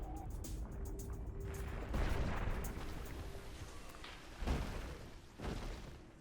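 Missiles blasting stone pillars in the Metroid Prime video game, a dense run of booming explosions and crashing impacts with sharper blasts near the end, fairly quiet overall.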